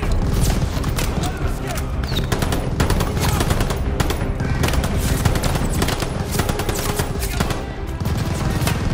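Dense, continuous gunfire and artillery in a Call of Duty Vanguard battle, with Pak 38 anti-tank guns firing amid rapid machine-gun bursts, loud and unbroken throughout.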